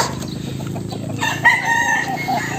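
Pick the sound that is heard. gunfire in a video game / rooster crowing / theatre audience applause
rooster crowing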